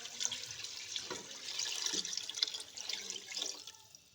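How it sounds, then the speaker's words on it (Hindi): Water is poured into a pot of chicken pulao cooking with tamarind paste, a steady splashing, gurgling stream heard close and fairly soft, with no talking. "अब हम इसमें 3 गिलास पानी ऐड कर देंगे"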